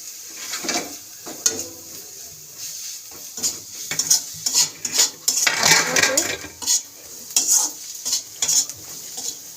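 A spoon stirs and scrapes through sizzling food in a metal pan in quick irregular bursts of clinks and scrapes, close and fairly loud over a soft hiss.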